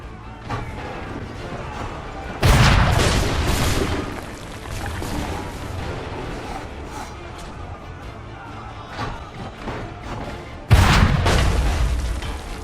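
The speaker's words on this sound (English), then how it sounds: "you can kill 15 guards with a single cannon fire" Cannon fire in the video game Assassin's Creed III: two loud, sudden booms several seconds apart, each with a rumbling tail, over continuous battle noise and music.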